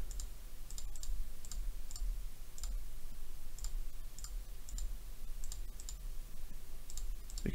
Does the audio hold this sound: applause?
no